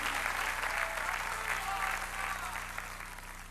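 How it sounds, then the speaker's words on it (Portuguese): A church congregation claps, a dense steady wash of many hands applauding together that fades slightly toward the end, with a voice faintly under it. "Eles começam a bater palmas, como vocês fazem."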